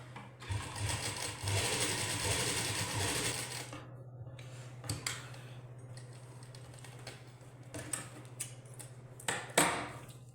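A sewing machine runs a top stitch along a suit sleeve in a rapid, steady burst for several seconds, then falls quiet apart from scattered clicks and short handling taps.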